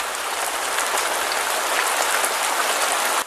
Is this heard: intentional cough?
no